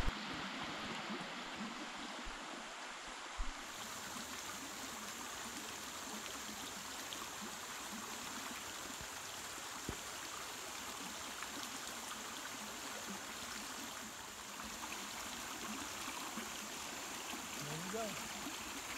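A creek runs steadily through the Caney Creek Wilderness in the Ouachita National Forest, a continuous broadband rush of flowing water heard close and unbroken for the whole stretch, with no voices over it.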